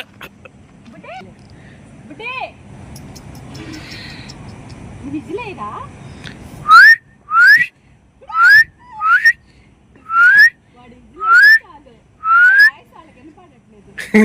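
A person whistles a series of about eight short rising notes in a steady rhythm, loud and close, after some quieter background sounds and faint voices.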